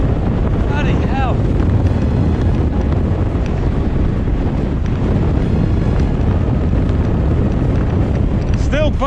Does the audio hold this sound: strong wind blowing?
yes